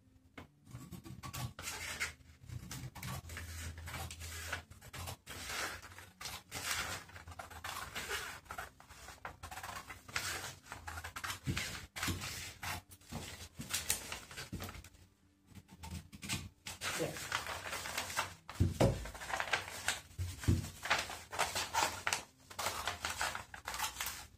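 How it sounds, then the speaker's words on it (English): Scissors cut through fabric on a table while a pajama pattern is adjusted into shorts, a steady run of close snipping and rubbing strokes with short pauses, no talk. "I'm gonna cut it now."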